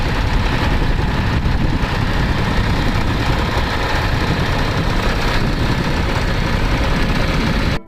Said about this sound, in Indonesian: Ada traktor gandeng.